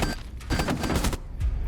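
Rapid bursts of gunfire in a first-person shooter video game, loud and close, a quick flurry of overlapping shots over about two seconds with no talking.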